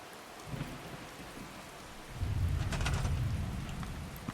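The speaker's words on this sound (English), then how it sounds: "This is quite the relaxing episode with the rain in the background." Steady rain pours in Fallout 4 as a continuous hiss, and it swells into a heavier, rumbling downpour partway through.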